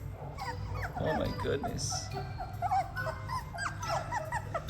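Young fox red Labrador puppies, just learning to walk, whimper and yip in a string of thin, high cries close by, under a woman's soft spoken exclamation.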